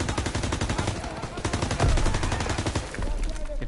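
Rapid, continuous gunfire from a World War II shooter game set during the D-Day campaign: dense bursts of automatic fire rattle close and loud for several seconds, with one heavier blast near the middle.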